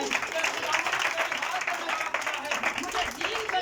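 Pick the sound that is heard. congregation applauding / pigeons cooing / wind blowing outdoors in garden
congregation applauding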